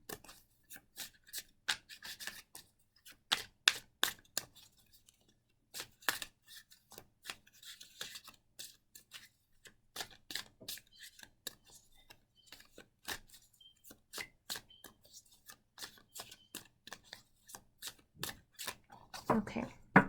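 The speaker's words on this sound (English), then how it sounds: "I'm just going to shuffle a little bit more to cement them into place" Tarot cards being shuffled by hand, a long run of crisp, close riffling snaps and soft rubbing bursts in an irregular rhythm, with brief pauses between them.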